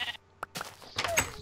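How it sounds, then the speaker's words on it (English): A couple of short, nasal Minecraft sheep bleats come in quick succession, separated by brief quiet moments and soft background noise. "Ooh, sheep."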